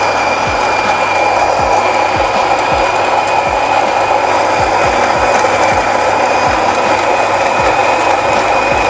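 A Sage Oracle espresso machine grinding an 18 g coffee dose, a continuous loud whirring grind with a steady high whine and repeated small knocking clicks underneath, running throughout with no talk.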